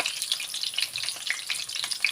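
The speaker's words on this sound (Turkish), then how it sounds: "Her tarafını bu şekilde kızartıyorum." Eggplant slices fry in hot oil in a pan, crackling and popping continuously at close range with sharp bright spatters and no talking.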